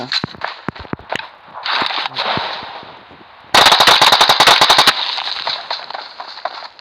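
Gunfire in the mobile battle-royale game PUBG Mobile: scattered single shots, then a loud rapid automatic burst lasting over a second, followed by fainter shots.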